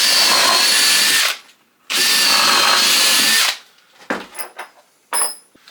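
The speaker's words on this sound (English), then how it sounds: "we're going for a slightly bigger pilot hole, just what I could find" Power drill boring a slightly larger pilot hole into wood for a garden bench, two loud sustained whining bursts of about a second each, followed by short clattering handling knocks.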